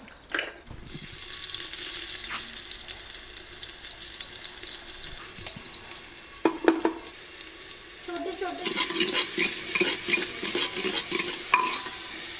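Cumin, garlic, ginger and onion frying in a pan, a steady sizzle with stirring scrapes and a few sharper clinks near the end.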